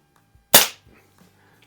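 A single sharp airgun-style shot cracks out close by at a splatter target inside a garage, one loud burst with a short decaying tail, followed by faint low rustles and a small click at the end.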